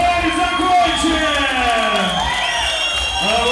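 A crowd cheers, whoops and applauds for the fighters after an MMA bout, loud and continuous throughout, with an announcer's voice over the noise.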